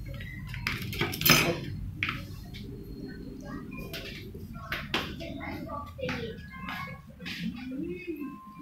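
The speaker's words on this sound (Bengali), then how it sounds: "চামচ দিচ্ছি ভুলে গেছি" In a home kitchen, a spoon and dishes are handled with scattered clinks and clatters of metal cutlery against plates, close by, while people talk over them.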